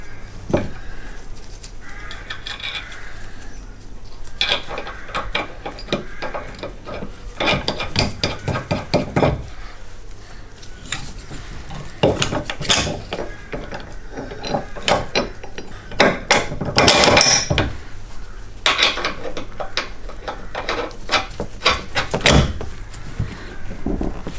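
Metallic clanks, taps and scrapes of a tow ball being fitted onto a Volvo V50 tow bar with M16 bolts, close and irregular with pauses between bursts of handling and tightening.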